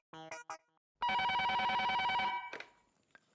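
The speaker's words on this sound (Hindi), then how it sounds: "टप्पू के पापा को फोन करके बताती हूँ।" A telephone rings in a home: a couple of short chirps, then one loud, sustained electronic ring lasting about a second and a half before it cuts off. No one speaks.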